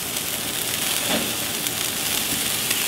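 Chicken thighs, breasts and peppers sizzle on a grill in a steady, loud, unbroken hiss with a faint crackle, and no one speaks.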